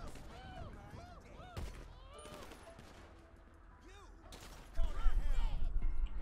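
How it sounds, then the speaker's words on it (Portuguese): Gunfire in the video game GTA 5 during a zombie apocalypse mode: bursts of shots ring out amid game sounds, building to a loud, dense volley near the end. "Estão atirando, velho."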